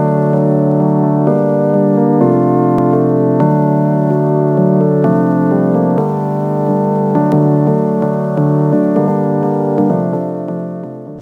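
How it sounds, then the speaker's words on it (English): Sustained Serum synthesizer chords for a bass house track play alone, rich and steady, changing every second or so, then fading out slightly at the end. "On their own, the chords sound like this."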